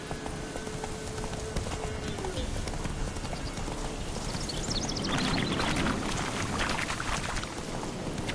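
Roach, a horse in The Witcher 3, gallops with fast rhythmic hoofbeats under game ambience and splashing water, steady and fairly close throughout.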